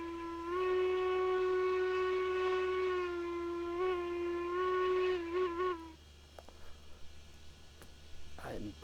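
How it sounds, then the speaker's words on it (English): A steam locomotive whistle in the video game Railroads Online blows one long, loud, sustained tone that wavers slightly and ends in a few short toots, followed by quieter clanks and rustles. "I'm pretty sure that's a whistle sound we've already got"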